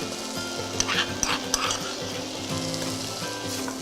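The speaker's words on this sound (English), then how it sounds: "it's important that you sweat off the tomato puree with the vegetables" Tomato puree and vegetables sizzle steadily in a pan, a continuous crackling fry with a few sharper spits and light stirring clinks, close and moderately loud with no talking.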